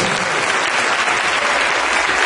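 A church congregation applauds, dense steady clapping filling the room throughout without a break.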